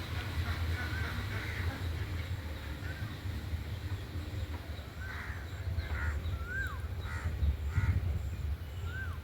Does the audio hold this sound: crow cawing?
yes